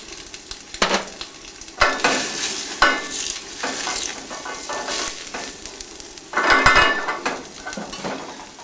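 Diced white onion fries in butter in a pan, a bright sizzle broken by several bursts of spatula scraping and clinks against the metal, close and fairly loud, no talk.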